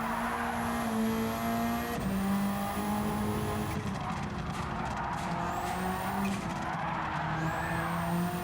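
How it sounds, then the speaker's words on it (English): A Subaru EJ20 engine swapped into a Renault Clio in Gran Turismo 7 screams at high revs and climbs through gear changes, with tire squeal over a continuous loud racing roar. "hearing this EJ20 scream like this"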